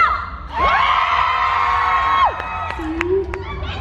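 Concert audience shouting together on cue, a loud sustained crowd roar lasting about two seconds, followed by scattered whoops and a single voice briefly trailing off.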